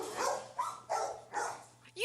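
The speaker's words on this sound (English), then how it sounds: "You know the sound of an animal shelter. Lots of barking, lots of noise." Several dogs bark in quick succession in an animal shelter, a handful of sharp, moderately close barks echoing slightly in the enclosed space.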